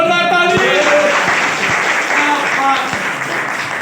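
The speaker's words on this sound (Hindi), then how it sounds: "जोरदार ताली।" A seated audience at a Hindi motivational talk breaks into loud, sustained applause that fills the whole stretch, with a voice briefly audible over the start.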